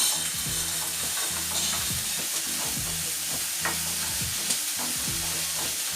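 Tomato frying in a pan for street-style Maggi, stirred with a spoon: a constant close sizzle under rhythmic scraping strokes that repeat roughly every second.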